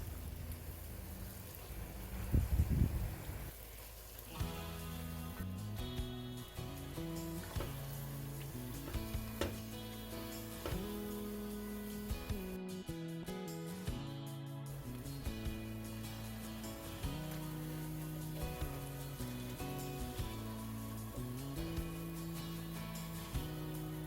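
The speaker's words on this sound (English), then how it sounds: "I'll fry them for about 3 to 4 minutes to infuse the flavor of the spices into the tomato mix." Spices fry in a tomato mix for jollof rice, a soft, steady sizzle and bubbling running underneath background music, with a brief louder stir near the start.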